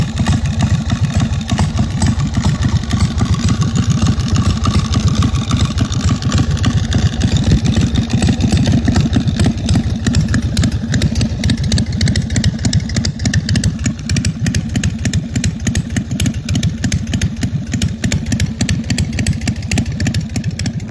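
A 2002 Harley-Davidson Custom motorcycle with 10,000 miles idles close by in a loud, steady, lumpy pulsing rumble that runs unbroken for about twenty seconds.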